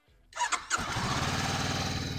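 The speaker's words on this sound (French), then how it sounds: "Je mets le moteur en marche." Motorcycle engine starting, a short cranking burst followed by a steady, close idle that settles into an even rumble.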